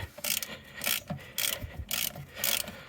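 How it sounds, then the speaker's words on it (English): A ratchet wrench on a bolt during a timing belt replacement on an NL Pajero, clicking in four short bursts with pauses between them, close and fairly quiet. "Let me just get my ratchet."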